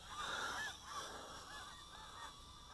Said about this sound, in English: See the geese? Snow geese are still here.